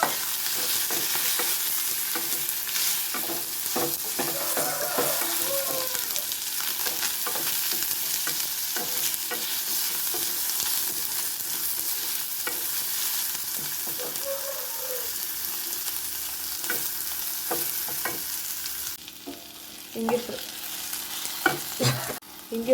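Chopped coconut frying in a pan for peanut chutney, a continuous sizzle with repeated scraping strokes of a stirring spoon, close up and without speech.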